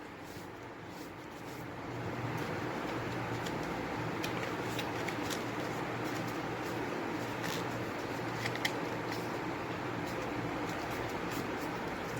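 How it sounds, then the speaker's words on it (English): Stiff hard paper is folded into a pen and pencil holder, with soft continuous crinkling, rustling and creasing close by and no talking. "you have to fold it by making a triangle like this, and then fold it like this."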